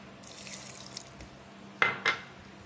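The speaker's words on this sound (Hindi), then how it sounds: "इसमें थोड़ा सा वाटर डालेंगे" Water poured into a bowl of chutney mixture made with garlic, lemon juice and cumin, two short splashy pours near the end after a faint background hiss, with no talking.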